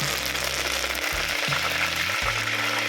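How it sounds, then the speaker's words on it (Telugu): Curry leaves crackling in hot oil with shahi jeera, cinnamon and cardamom for bottle gourd khichdi, a steady close sizzle over a low droning hum. "ఇది కరివేపాకు వేస్తున్నా"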